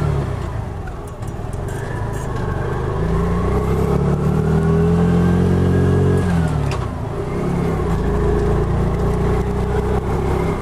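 Small Piaggio Ape City Fi 2020 three-wheeler engine droning steadily while driving through traffic, with a rising then falling pitch mid-way as it speeds up and eases off, heard from inside the cab.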